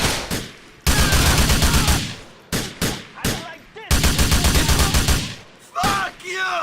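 Heavy bursts of automatic gunfire from the video game GTA IV ring out in loud repeated volleys separated by short gaps, with single sharp shots and brief shouting voices between them.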